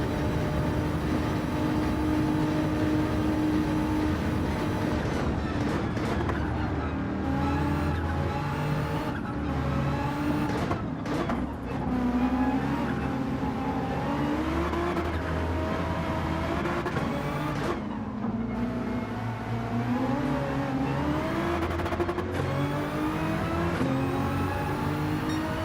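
A Nissan Nismo race car in Gran Turismo 7 drones continuously with a loud, steady engine note that climbs and drops through gear changes as it races among other cars.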